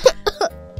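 Several short, dry coughs caught in a bent arm, three quick muffled bursts and a softer fourth, close and alone.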